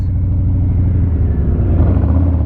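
A motorcycle engine in a steady low rumble, revving evenly as the rider shifts into second gear, close and loud with no talk.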